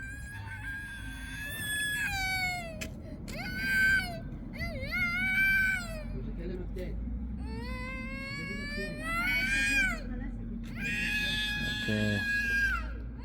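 Children scream and shriek nearby at a beach during outdoor painting. Several long, high, wavering cries rise and fall over steady background noise, and one short spoken word is heard.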